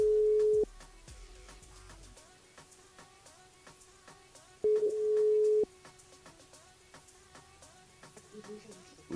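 Telephone ring tones sound while a radio switchboard calls a listener: long steady beeps separated by pauses, loud against a faint buzzing line hiss.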